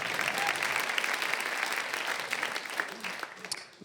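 Audience applause at a stand-up comedy show in New York, a steady wash of clapping from a crowd that holds strong for several seconds and eases slightly toward the end.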